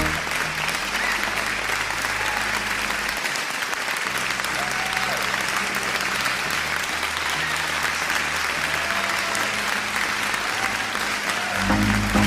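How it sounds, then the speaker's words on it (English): An audience at a Sunday interview show keeps up steady, dense applause for the full stretch, loud and even, with faint voices underneath. "Another round of applause, please."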